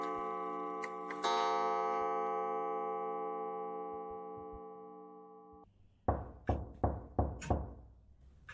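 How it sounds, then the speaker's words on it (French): After a long ringing chime slowly fades out, someone knocks on a door five times, the raps sharp, close and evenly spaced. "On frappa précautionneusement à la porte qui se trouvait au chevet de son lit."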